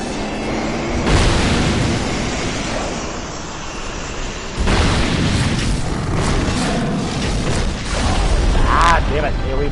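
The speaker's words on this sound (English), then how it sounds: "Ah, damn it, AoE blast." Booming blasts from Aava's area-of-effect explosion attack in Dark Souls II, big low-heavy bursts around the start and middle with game rumble throughout, while someone talks over the fight.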